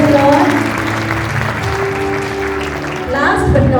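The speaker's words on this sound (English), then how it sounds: "A well-deserved applause." Applause from an audience at a school investiture and felicitation ceremony, a sustained broad wash of clapping that rises again toward the end, with voices and tonal sound mixed in underneath.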